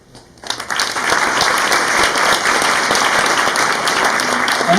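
Applause from a seated audience at an India Day 2018 event in Stockholm, starting abruptly and holding as steady, loud clapping for several seconds.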